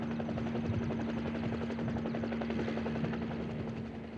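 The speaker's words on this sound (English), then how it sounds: "and so I got on the chopper and came out." A military helicopter in Vietnam in 1975 gives a steady, loud rotor thump and engine drone that stays constant throughout, close by and alone without talk.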